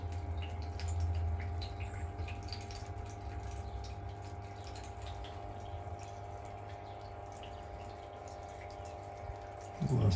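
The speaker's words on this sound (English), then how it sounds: "That's just a little bit of water coming across from tab 2 there." A small trickle of water flowing across from a pond filtration tank, a steady soft gurgle with a low pump hum beneath, faint and continuous throughout.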